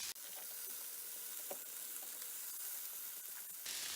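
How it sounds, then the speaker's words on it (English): Chickpeas sizzle steadily in a hot pan while being stirred, a close, even frying hiss with faint scraping and clinks from the stirring, and no voices. "Give it a little stir."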